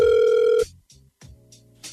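A telephone tone sounds while a call is being placed: a steady sustained tone cuts off, followed by faint line clicks and short bursts of ringback, heard over a phone line.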